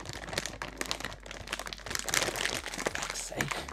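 A plastic chip bag crinkles and rustles continuously near the microphone as chips are handled and eaten, with scattered crunchy crackles throughout.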